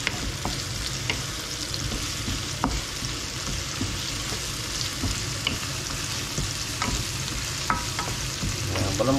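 Sausage and corn fry and get stirred in a pan for fried rice, a steady close sizzle with scraping spatula strokes throughout and no talking.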